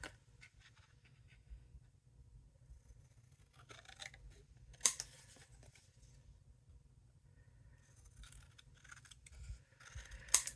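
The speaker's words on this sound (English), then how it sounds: "then we'll cut the window out" Scissors snip out a window in a handmade card, with quiet, close, irregular bursts of cutting and rustling separated by pauses, and a sharper snip near the middle and again near the end.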